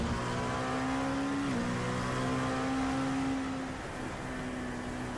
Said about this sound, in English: You hear how Lewis is trying to balance the car with the throttle going through the carousel